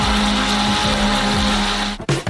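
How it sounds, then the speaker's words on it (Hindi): An electric blender whirs loudly and steadily, beating thawed strawberries with two kilograms of sugar, then stops abruptly near the end. "हम इसे एक ब्लेंडर के साथ अच्छी तरह से बीट करेंगे।"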